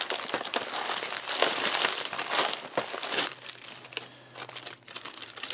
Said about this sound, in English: it's just got these simple little tear notches all down the bag. Pretty easy to open up.